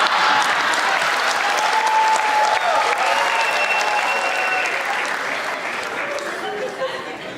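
A stand-up comedy audience bursts into sustained applause, a thick wash of clapping with faint voices and cheers mixed in, staying loud before gradually thinning toward the end.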